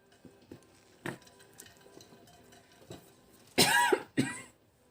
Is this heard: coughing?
yes